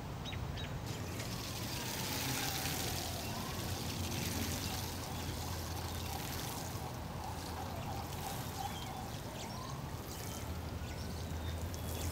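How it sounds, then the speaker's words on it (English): Water poured or sprinkled over freshly seeded salad greens on a micro farm, a steady soft wash and trickle running continuously, fairly faint, with no talk. "The only thing remaining to do is give them a quick water."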